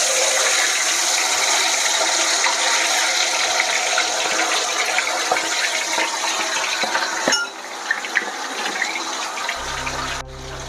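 Quail pieces frying in hot oil in a pan for quail biryani, a loud continuous crackle and sizzle that holds steady and then drops a little softer toward the end.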